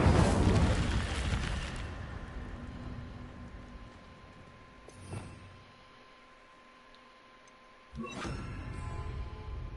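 An Incendio fire spell going off in a Harry Potter video game, a loud whooshing burst that fades over several seconds, then a second sharp flare near the end.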